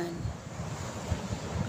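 Sea waves wash onto a quiet beach resort shore in Zambales, a soft low rumble of surf mixed with wind buffeting the microphone.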